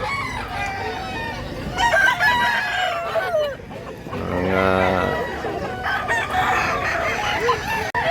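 An over six-year-old black Hennie rooster crows loudly and close by in rural Barili, Cebu, one long clear crow standing out mid-clip amid clucking and other farm-animal sounds, with people talking nearby.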